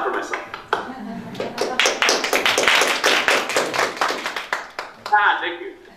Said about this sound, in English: I'll just clap for myself.